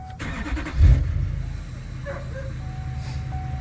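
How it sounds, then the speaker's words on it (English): A warmed-up diesel engine after a glow plug control module replacement, cranking briefly and catching quickly, then settling into a steady idle close by. "I'm gonna crank it back up. Now it is gonna crank easy because it's been running for a little bit."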